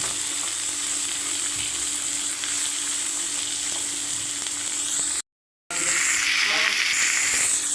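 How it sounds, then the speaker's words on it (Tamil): Tomatoes sautéing in plenty of oil with ghee for tomato rice, giving a steady, loud, close sizzle that runs almost without a break, cut by a short silent gap and then a few soft stirring scrapes. "தக்காளி போட்டு கொஞ்சம் நேரம் வதக்கி விட்டுக்கலாம்"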